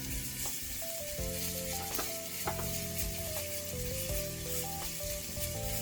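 Garlic stir-fries slowly in a pan for risotto, giving a steady close sizzle with repeated scraping stir strokes, soft and even throughout with no voices.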